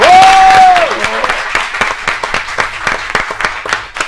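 Concert audience applauding an artist on a Cameroonian music stage, a dense burst of clapping that thins into scattered claps over a steady crowd bed, with a brief sustained tone near the start.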